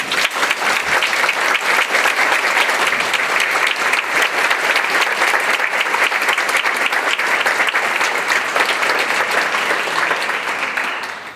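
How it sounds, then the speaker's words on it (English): Sustained, dense audience applause for keynote speaker Irina Bokova at the 21st World Conference fills the hall steadily and loudly from start to finish, tapering only slightly at the very end. "one of several rounds of applause for Irina Bokova"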